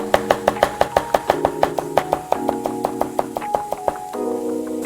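Knife finely chopping cucumber on a cutting board for a yogurt sauce, a steady run of sharp, close taps in quick rhythm, with no talk.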